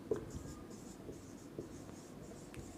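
Chalk or marker writing on a board during a steel design engineering lecture, a steady faint scratchy scraping with a few brief taps, quiet and continuous in a room with no voices.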